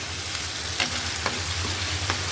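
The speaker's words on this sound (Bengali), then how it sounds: "টমেটো দেওয়া একটু মশলার সাথে হোক, কষানো হোক" Chopped tomatoes frying in hot oil with spices in a pan, a constant close sizzle broken by a few soft stirring scrapes, no talking.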